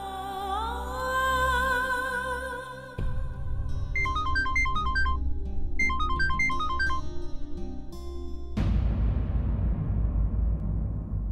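A phone ringtone plays a melodic electronic tune in repeated bursts, loud and close, ending in an abrupt noisy cutoff; no one speaks.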